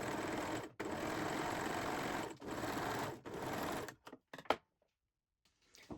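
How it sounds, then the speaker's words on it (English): A serger runs in loud, steady bursts finishing the long edge of a fabric gusset, stopping twice briefly, then falls silent apart from a few small clicks and handling noises. "finish the longer edge of the gusset with a serger or zigzag stitch to prevent"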